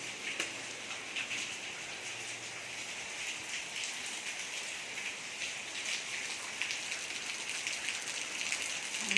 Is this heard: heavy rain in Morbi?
yes